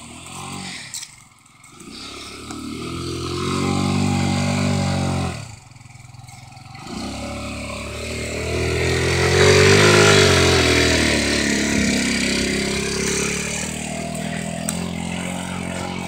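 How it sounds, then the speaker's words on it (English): A moped doing burnouts in dirt and roots revs hard and loud up close, its engine whining up and down with scraping and clattering, broken by two brief drops in noise. "And he's doing burnouts digging roots."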